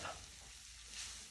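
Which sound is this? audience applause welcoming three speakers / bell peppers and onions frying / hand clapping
bell peppers and onions frying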